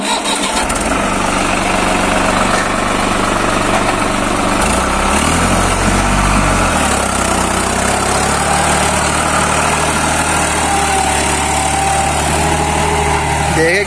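A New Holland 5500 55HP 4x4 tractor pulling a harrow across damp, firm ground: a loud, steady diesel engine drone that holds close throughout, with a brief change in pitch as it pulls away.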